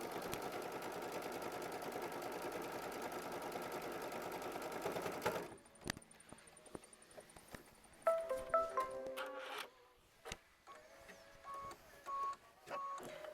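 A sewing machine stitching a flip-and-fold quilt block runs in a continuous fast, even hum for about five seconds, then stops, followed by quieter handling clicks and brief whirs.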